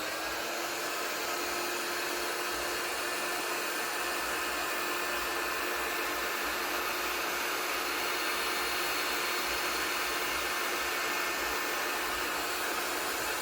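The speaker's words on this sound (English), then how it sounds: "Now, heat gun." A heat gun blows hot air in a steady, loud, unbroken hiss that holds evenly throughout while it warms a rolling tray, with no talking over it.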